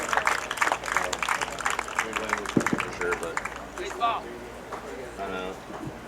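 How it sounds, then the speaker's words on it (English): Spectators at a Grand Lake Mariners minor-league baseball game applaud a barbershop chorus with scattered, rhythmic clapping and crowd murmur, while a public-address announcer speaks loudly over them. "The Grand Lakes Highway Barbershop Chorus, a nice round of applause."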